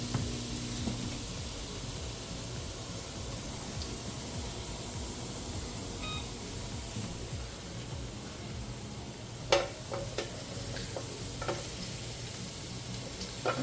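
Onion and chicken sizzle steadily in a pan, a constant close frying hiss with a few sharper pops and scraping stirs toward the end.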